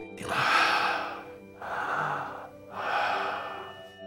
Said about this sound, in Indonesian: rekaman suara napas dalam tanpa wujud